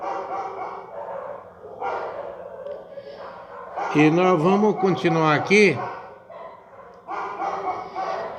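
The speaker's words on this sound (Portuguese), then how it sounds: "na esperança desses cachorros se aquietarem." A dog barks repeatedly in a burst of loud, close yaps mid-clip, with someone talking before and after the barking.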